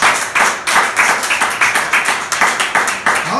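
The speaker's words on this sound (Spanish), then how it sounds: "Vamos a darle un aplauso bien grande al Señor Jesús" A church congregation claps together in a steady, quick rhythm, each clap distinct and loud, the beat holding evenly for several seconds with no talk over it.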